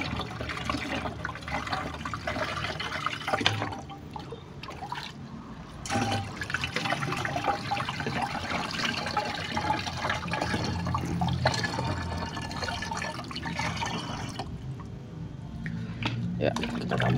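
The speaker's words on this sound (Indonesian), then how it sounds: "kita tambahkan airnya sampai dia 5 liter air ya" Water is poured into a sprayer tank to dilute a treatment for grapevine leaf rust, a steady splashing fill under a man's speech, with a few louder sloshes.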